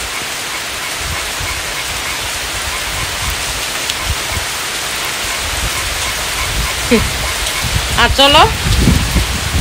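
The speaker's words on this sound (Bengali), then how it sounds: "এই যে দেখো বৃষ্টি" Heavy rain pours down in a dense, steady hiss close by, with a few words spoken briefly near the end over the downpour.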